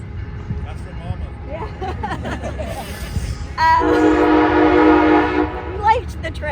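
A train horn sounds in a long, steady blast partway through, loud over a background of people talking, with the rumble of a passing train beneath.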